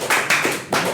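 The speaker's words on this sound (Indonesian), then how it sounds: "Jadi kita beri aplaus dulu biar agak lebih santai" Audience applause at a Jakarta sports-organization discussion forum, a short burst of clapping that swells, dips, then rises again near the end, with no talk over it.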